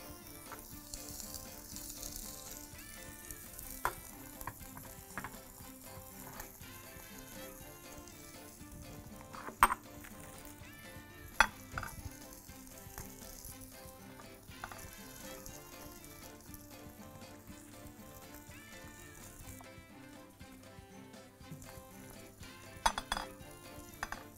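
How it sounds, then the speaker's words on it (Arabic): Toast bread and minced meat sizzle steadily on a hot grill, a continuous close frying hiss with occasional clinks of utensils and pans, no talking. "عيش توست حطيناه على الجريل مع اللحمه"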